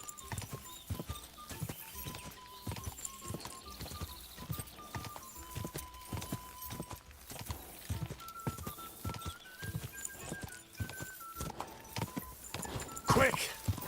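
Horse hooves clip-clopping in Kingdom Come: Deliverance, a steady run of close hoofbeats under game music, with a voice talking over it and a brief sharper burst near the end.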